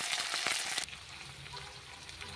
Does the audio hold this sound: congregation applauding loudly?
no